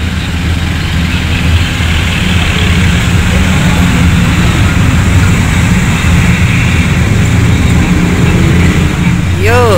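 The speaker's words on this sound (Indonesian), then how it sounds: "Arus lalu lintas pun lumayan ramai." Steady street traffic in the town of Cepu, Indonesia, with engines rumbling and vehicles passing continuously nearby, a constant dense roar throughout.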